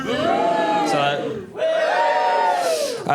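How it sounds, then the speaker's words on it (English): A comedy club audience lets out two loud, swelling cheers in quick succession, a massed whooping roar that rises, dips briefly and surges again. "When I give a thumbs up, give me a big cheer."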